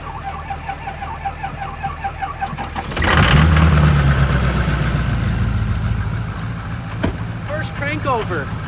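An old engine on a tractor or truck project cranks over, then catches at about three seconds and keeps running roughly, close and loud, with a jump box and a Ford Ranger used for the start.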